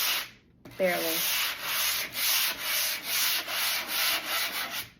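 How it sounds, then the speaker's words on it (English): Steady rhythmic scraping of a sanding block rubbing back and forth over wood, close up, with repeated even strokes and no talking. "I'm gonna take a sanding block"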